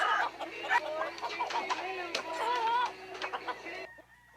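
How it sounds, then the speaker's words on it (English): A fighting rooster clucks and murmurs in a steady run of short, throaty calls, close by, with a person talking quietly alongside. "He just awesome, Rooster. Now all he does is talk to the ladies"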